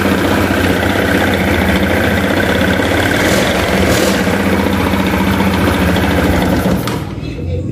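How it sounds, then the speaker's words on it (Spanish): A motorcycle with a faulty voltage rectifier runs loud and close, revving with a rough, buzzing drone before cutting off abruptly near the end. "Vamos a acelerar la moto y vamos a ver qué ocurre."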